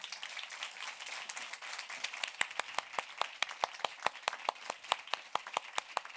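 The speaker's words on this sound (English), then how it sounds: "Big applause." Conference audience applauding at the close of a talk on artistic freedom, a dense wash of many hands that turns into sharper, evenly spaced claps near the end, steady and fairly loud with no talking.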